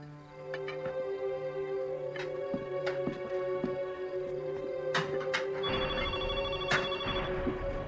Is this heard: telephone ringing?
yes